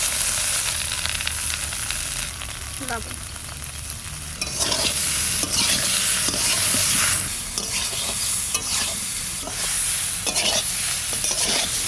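Bay leaf, dried red chilli and cumin tempering sizzling loudly in hot oil for a taro and fish curry, a steady close frying hiss with brief stirring clatters.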